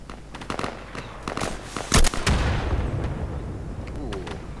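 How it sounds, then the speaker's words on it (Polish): Loud explosions and blasts in the tactical shooter Insurgency, with several sharp bangs and one heavy burst near the middle followed by a rumbling tail, over ongoing battlefield noise. "Mocno tu wybuchy działają, widzę."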